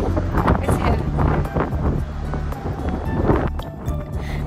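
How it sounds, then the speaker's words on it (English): Wind buffets the microphone at a coastal lookout near Port MacDonnell, South Australia, a steady loud roar with gusty swells throughout, no speech. "Battling the wind"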